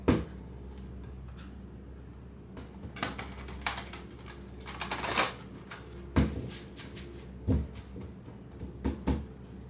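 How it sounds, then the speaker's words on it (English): A tarot deck is shuffled with soft riffling and flicking, heard in short bursts with sharp taps and pauses between them, quiet and close against a faint background hum. "Last shuffle."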